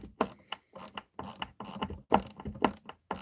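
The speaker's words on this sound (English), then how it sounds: "Now this is much better because you have the ratcheting." A ratcheting Phillips screwdriver turns a screw held in a pipe vise, giving close, crisp bursts of rapid clicking in a repeated stop-start rhythm.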